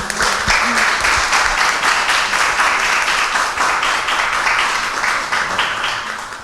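An audience at a music-and-books event greets a classical guest performer with loud, sustained applause, a dense, even wash of clapping that tapers slightly at the end.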